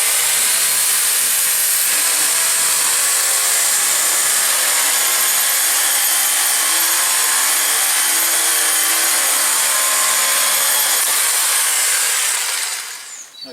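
An electric chainsaw cuts back branches with a loud, steady, high-pitched buzzing whine that runs without a break before cutting off abruptly at the end.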